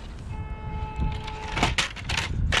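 A cheap Subotech SBG1522 M151 MUTT military RC jeep with a small electric 370 motor whines thinly at first, then strains in louder, choppy bursts as it drives and climbs close by.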